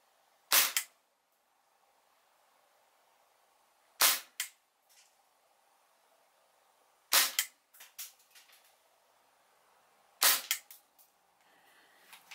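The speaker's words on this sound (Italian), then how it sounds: "aspettiamo il minimo rumore e spariamo un paio di colpi e vediamo cosa legge" An air gun fires pellets during a noise test, giving four sharp, loud cracks spaced a few seconds apart, each followed by fainter clicks and rattles in a quiet room.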